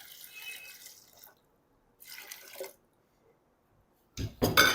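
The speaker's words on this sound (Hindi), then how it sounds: "अब इसमें मैं डाल दूँगा पानी।" Water is poured into a pot of mince and lentils in a kitchen, coming in short separate pours with gaps between them and ending in a louder, fuller splash.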